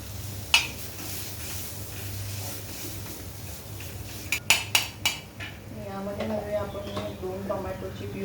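Metal utensil stirring cumin and coriander in a pan for tawa bhaji, a few sharp scraping clinks against the pan followed by soft frying sizzle, with someone talking over it.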